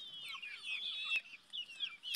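Chickens on a mountain farm clucking at feeding time, a busy overlapping chorus of soft clucks and squawks, moderately close, with a brief knock in the middle and no talk.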